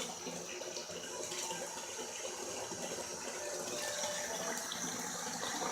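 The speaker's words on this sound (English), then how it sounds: "I keep filling the tub up with hot water." Steady rushing hot water pours continuously into a filling bathtub in a hotel room, a soft, even gush with no voices.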